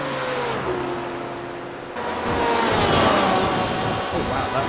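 Several race cars in an iRacing GTE league race at Road America roar past in clumps, engines rising from a steady drone to a louder, busier surge of overlapping revs, with commentary voices running underneath.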